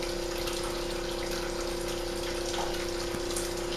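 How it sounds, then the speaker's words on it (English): A JOBO ATL2300 film processor pumps water out of a bottle with a steady, loud mechanical whir and rushing gush that holds unbroken throughout, close by and with no voices. "Now it'll pump out bottle number 3."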